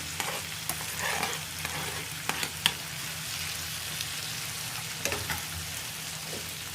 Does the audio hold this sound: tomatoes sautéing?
yes